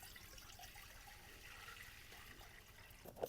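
Water runs into a cooking pot on a stove for boiling, a soft continuous trickling and pouring that sounds faint and fairly close, ending with a small splash or clink, and no voices.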